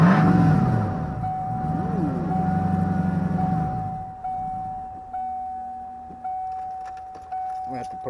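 A small car engine fitted with a truck muffler idles and revs, steady tones under talk at first, then sharp blips of throttle repeating every second or so, loud and close.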